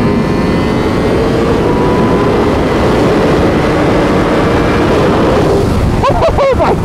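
2021 Honda Fireblade SP superbike on a race track, its engine roaring loudly and continuously at high revs with a steady droning whine, buffeted by wind, and a short burst of rider voice near the end.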